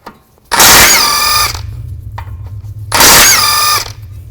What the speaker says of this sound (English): we're going to use a 17mm socket and take these two nuts off and this bolt